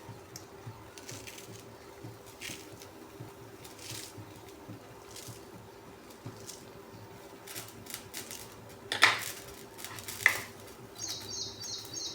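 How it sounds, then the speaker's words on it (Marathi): Fresh coriander leaves are chopped with a knife, producing sparse, soft taps at a slow, uneven pace, with two sharper, louder cuts near the end over a quiet background. "आता आपण ह्याच्यातच ना कोथिंबीर पण टाकू कापून."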